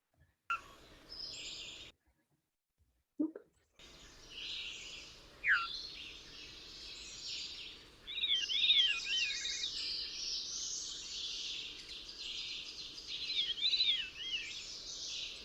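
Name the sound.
veery song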